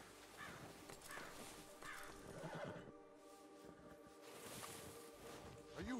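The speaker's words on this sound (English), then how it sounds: "Get on your horse, Arthur." Horse neighing in the Red Dead Redemption 2 video game during a gang shootout, a few whinny-like calls over a busy layered game soundscape with hooves and background noise.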